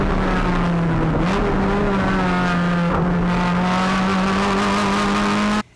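A Honda Civic EG race car on track with coilover suspension drones steadily at high revs, its pitch dipping and recovering through corners, with faint tire noise underneath as the tires grip.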